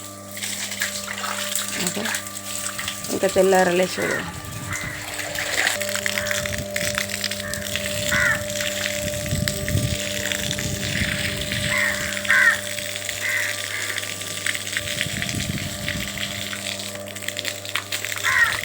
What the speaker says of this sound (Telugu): ఇంకా ఇప్పుడు ఆకులు ఉడిచి ఇట్లా నీళ్ళు పట్టి ఆకులంతా కడిగేస్తా